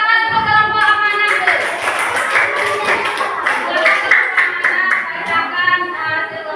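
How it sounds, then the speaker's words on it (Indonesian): Clapping from a classroom of students welcoming a group to the front, a brisk patter of hands mixed with chatter and a speaking voice on top, close and fairly loud throughout. "Kita beri tepuk tangan untuk kelompok amanah."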